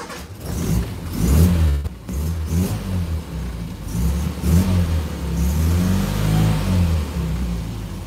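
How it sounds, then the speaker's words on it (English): A classic Mini's engine fires up and revs, rising and falling through several throttle blips, then settles into a loud, steady run close by with no talking. "I'll answer them after I start up this car here"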